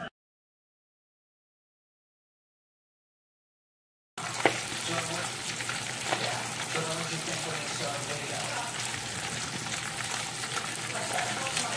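Snapper seasoned with adobo, garlic powder and jerk seasoning fries in a pan, a dense steady sizzle that starts abruptly after a few seconds of silence and continues close and loud.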